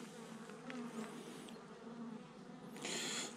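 Honeybees from a swarm colony buzz around an open hive in a dense, steady hum close by, with a louder burst of buzzing near the end.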